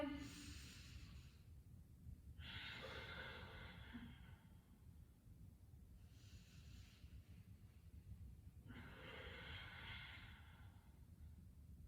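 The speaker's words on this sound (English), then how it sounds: "You can hear that ujjayi breath." Slow, audible ujjayi breathing during a yoga practice, long hissing inhales and exhales through the throat repeating every few seconds, soft and close over a low background rumble.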